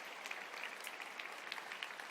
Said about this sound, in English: please do let's give a warm round of applause to the first panel